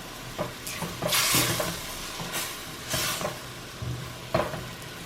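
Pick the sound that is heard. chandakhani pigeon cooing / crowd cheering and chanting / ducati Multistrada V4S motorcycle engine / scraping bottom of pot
scraping bottom of pot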